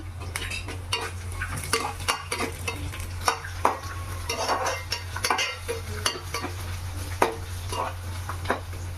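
Onion, ginger and curry leaves fry in a pan for broken-rice upma, with a continuous sizzle broken by frequent sharp scrapes and clinks of a stirring spoon against the metal.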